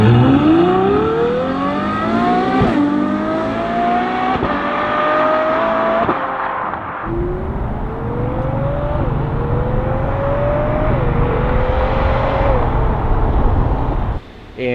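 A Ferrari F12 engine revs hard through several gears with exhaust valves open, the exhaust roaring and rising in pitch before each shift, loud and close throughout.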